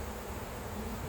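Honey bees buzz steadily around an open beehive while honey is being pulled, a dense continuous drone that stays close and even throughout with no voices.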